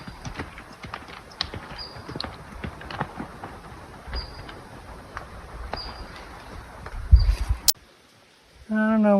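Horses walk a hiking trail on the Continental Divide, hooves clip-clopping in a steady, fairly close rhythm among faint rustling, before the sound cuts off and a brief different noise follows.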